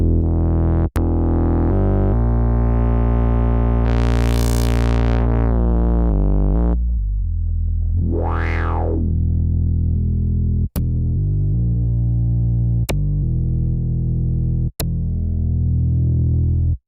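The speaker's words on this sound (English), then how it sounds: "but if we add distortion now" A buzzy, distorted Prophet 12 synthesizer plays sustained tones with dramatic sweeping pitch rises and falls, broken up by a few sharp clicks.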